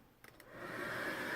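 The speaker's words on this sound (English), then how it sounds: "we have a hairdryer, which works about as well as anything" A steady whooshing roar of a hair dryer blowing air into a forge fire, rising after a couple of brief clicks at the start and holding loud and constant.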